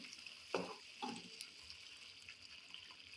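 Paneer being stirred in a frying pan, with spoon scrapes around half a second and one second into a soft background sizzle that stays steady and faint throughout.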